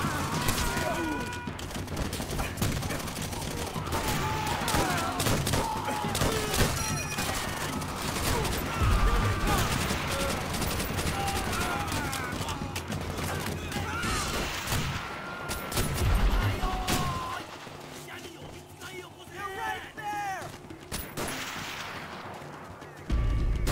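Steady battlefield gunfire in Call of Duty: World at War, continuous rattling volleys and distant booms layered with shouted voices throughout, thinning somewhat toward the end.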